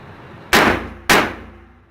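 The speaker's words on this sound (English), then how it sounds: "put 2 well-placed shots into it" Two sharp, close 9mm pistol reports about half a second apart from a BM9, each a loud crack followed by a brief ringing decay.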